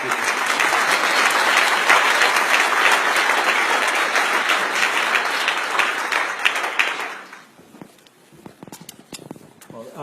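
Dense, steady applause from a dinner audience welcoming Ben Rhodes, loud and sustained for about seven seconds before fading quickly to a few scattered claps and room noise.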